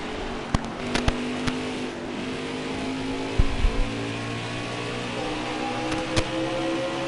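Race car engines drone in a NASCAR-style racing video game at New Hampshire, a steady layered engine hum with sustained tones throughout and a few sharp clicks and thumps, with no talking.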